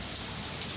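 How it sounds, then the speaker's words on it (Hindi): Heavy rain pours down on a street, a dense, steady hiss that runs without a break through the whole short stretch, with no voices over it. "बारिश हो रही है, बड़े जोरदार धमाकेदार बारिश हो रही है।"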